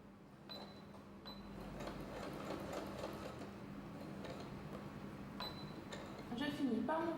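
A sewing machine stitches the side seam of a swimsuit front and back, a rapid, steady mechanical whirr with clicking needle strokes, close by under a talking voice.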